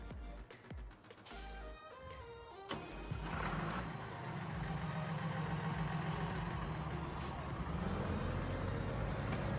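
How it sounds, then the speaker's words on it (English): A tractor engine idles in Farming Simulator, a steady low rumble that rises into a constant loud drone after a few seconds of musical game sounds. "let's try another tractor on it"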